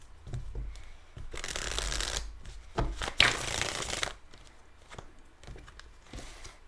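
Tarot cards being shuffled for a reading, several close, riffling bursts of card on card separated by brief pauses and handling taps.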